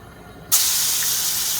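Ginger garlic paste hits hot oil in a pan with a sudden loud hiss that starts abruptly and holds as a steady, close sizzle.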